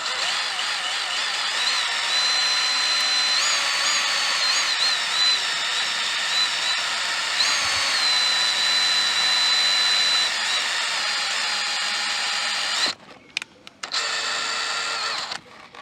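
A power drill bores a pilot hole for a fuel stand pipe on a Chinese diesel heater fitted to a VW Transporter, giving a loud, steady high whine for about thirteen seconds, then stopping and restarting in short bursts.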